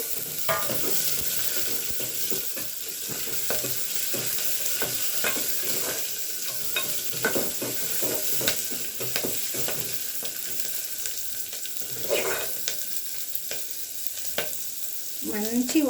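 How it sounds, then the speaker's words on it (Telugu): Chopped onions sizzle in a hot pan for a chili pulusu, with a steady crackle and frequent scraping, clinking stirs of a spoon throughout; no one speaks. "ఇప్పుడు ఎర్రగడ్డ వేస్తున్నానండి"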